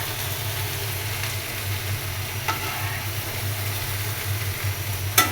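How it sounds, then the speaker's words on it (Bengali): Okra stir-fry frying in a pan gives off a steady, moderate sizzle with light stirring, over a constant low hum and a sharp clatter near the end; no one speaks. "একটু সবুজ সবুজ ঢেঁড়স ভাজি করে নিলাম।"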